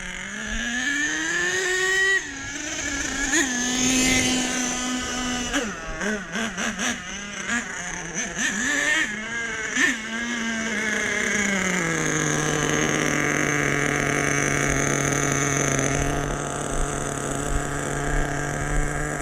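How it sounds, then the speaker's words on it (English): Truck engine revving hard and climbing in pitch, dropping as it shifts quickly into second gear, then holding a loud steady drone, close and continuous throughout. "it's hitting second gear awful fast"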